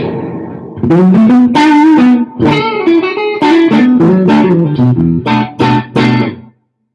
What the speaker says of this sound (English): just a nice, sort of plain Hall style reverb